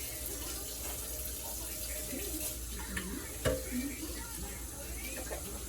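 Tap water runs steadily into a kitchen sink while a drinking cup is rinsed, a constant close splash with one sharp clink of the cup midway.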